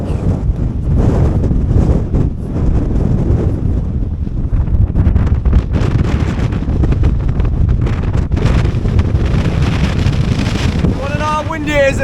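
Strong, constant wind roars and buffets the microphone on the summit of Knott Rigg, a Lake District fell, loud and unbroken throughout, with a brief voice near the end.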